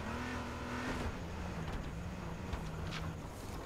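A car engine in the video game H1Z1 drones steadily with a shifting pitch, revving up and down at a moderate distance, with no voices over it.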